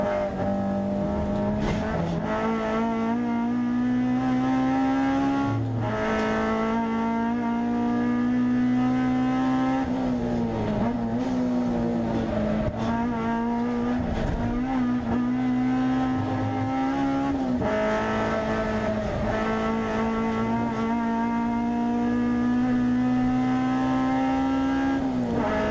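A Honda Civic EK9 race car laps Castle Combe circuit in a hot hatch race, its engine droning loud and close with a steady high-revving note, rising and dipping through gear changes and corners, and faint tyre squeal.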